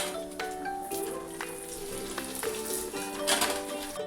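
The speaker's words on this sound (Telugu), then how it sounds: "వడలను వేసుకొని ఫ్రై చేసుకోవాలి." Corn vadas fry in hot oil with a dense, continuous sizzle and crackle, close and steady throughout, with occasional louder pops and a faint musical background.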